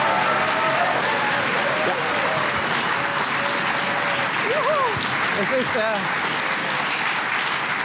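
Circus-ring audience applause during a German TV show, dense continuous clapping from a close crowd, loud and even throughout, with a few voices calling out over it.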